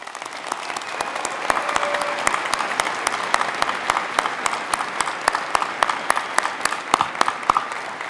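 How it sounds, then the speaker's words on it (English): Commencement audience at Oregon Tech in Klamath Falls applauding the faculty, sustained crowd clapping with sharp individual claps popping out over a steady wash, continuous for the whole stretch with no talk. "please give a round of applause and a thank you to our wonderful faculty"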